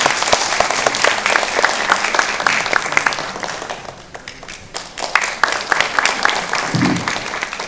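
A seminar audience at a suicide prevention forum at the National Assembly claps for a professor about to present, steady, dense and fairly loud throughout, with a brief dip midway before the clapping picks up again.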